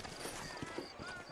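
Sturdy horses clip-clop at an easy pace, several muffled hoof strikes sounding a little apart over a faint outdoor background.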